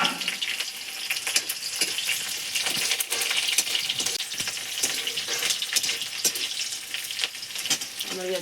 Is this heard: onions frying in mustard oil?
yes